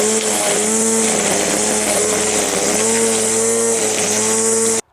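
A VITALS AZT 3605 SmartLine+ cordless grass trimmer runs at steady high speed, a loud, close, continuous electric whine with a strong tonal hum, then cuts off abruptly at the end.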